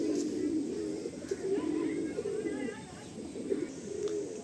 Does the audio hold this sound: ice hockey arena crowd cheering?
no